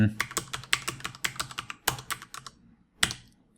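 Fingers patter quickly across a computer keyboard while a C# sales program is being built, a fast run of close, crisp keystrokes, a short pause, then one firm final press of the Enter key.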